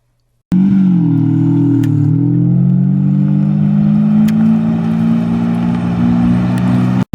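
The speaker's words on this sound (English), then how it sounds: "We're driving a Ferrari 550 Maranello with a gated shifter. So this is a V12 engine, 6-speed manual." A Ferrari 550 Maranello's V12 engine with a six-speed manual drives along, a loud, steady, close-up drone that starts abruptly and holds a smooth engine tone with slight pitch shifts before cutting off at the end.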